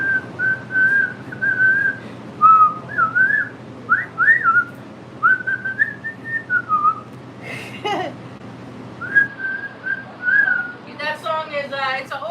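A person whistles a tune, a clear solo melody of wavering sustained notes with brief pauses, close and alone against a faint background hum.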